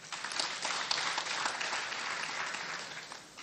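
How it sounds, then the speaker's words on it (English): An audience at a formal conference event applauds, a full continuous round of clapping at moderate distance that tapers off toward the end. "A round of applause for him"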